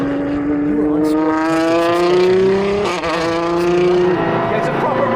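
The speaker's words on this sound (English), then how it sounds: "It's a proper racing car" Rare racing car engine heard from inside while driving, a loud steady buzzing drone that climbs in pitch, briefly dips at a gear change and then climbs again, with no talk over it.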